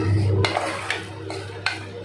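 Tomato rice masala stirred in a pan with a spoon, three sharp scraping clinks spaced across a short stretch over a low steady background hum, close and fairly loud.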